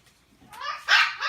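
Puppies let out a couple of short, high-pitched yips and barks, close and fairly loud, in a brief burst.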